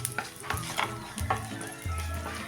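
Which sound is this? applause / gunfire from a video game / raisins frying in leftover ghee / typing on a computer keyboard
raisins frying in leftover ghee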